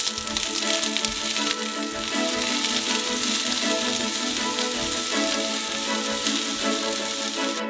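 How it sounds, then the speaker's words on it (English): Sliced onions sizzle loudly in a hot frying pan, a dense continuous crackle and hiss that stays close and even throughout. "send those to fry in a frying pan"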